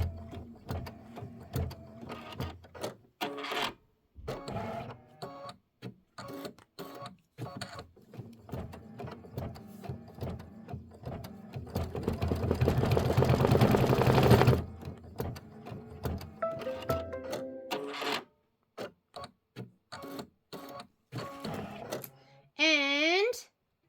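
A home embroidery machine stitches the thick flower centre of a pumpkin block, its needle hammering in fast rhythmic bursts with pauses, rising to a long dense run midway, with someone talking at times.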